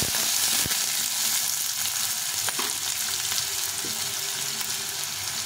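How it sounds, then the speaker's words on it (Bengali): Long potato strips fry in hot oil, making a loud, steady, crackling sizzle up close, broken by a few light knocks and scrapes from a utensil. "এখন আলুটা ভেজে নেব।"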